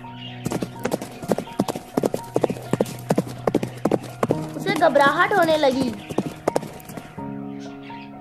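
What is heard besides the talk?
many horses galloping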